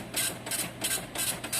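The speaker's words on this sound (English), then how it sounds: "It is getting print." A GMDSS controller's built-in printer runs a test printout, giving off a rapid, regular mechanical whirring and rasping in four even pulses, steady and close, with no voices.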